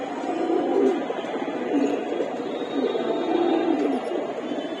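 A racing pigeon gives low, repeated cooing calls in a steady rhythm, close by and continuous over a constant background hiss.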